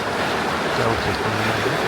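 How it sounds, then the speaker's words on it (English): Sea waves wash onto a sheltered beach in the Pyrénées-Orientales in February, a steady, close surf roar with no pause. "Sheltered from the wind, the sea in front of us."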